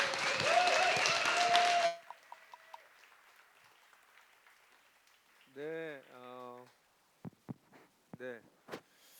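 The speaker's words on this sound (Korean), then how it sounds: "우리 김영곤 목사님 나오실 때 우리 박수로 환영하겠습니다." Audience clapping welcomes a pastor to the stage at a church seminar. A short, full burst of applause lasts about two seconds and stops abruptly, followed by quieter scattered sounds.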